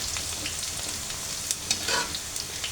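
Half-crushed garlic fries in oil for mango pickle, making a short, even sizzle nearby with a few louder crackles and a brief stir near the end, no voices.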